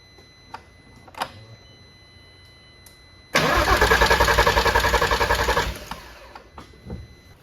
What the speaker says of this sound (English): I'm gonna crank the engine just to make sure we see some coming out